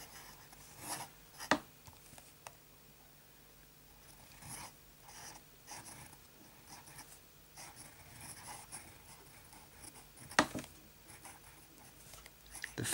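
A flex-nib fountain pen scratches faintly across paper with Diamine Soft Mint ink, giving soft intermittent strokes and a few sharper ticks over quiet background hiss.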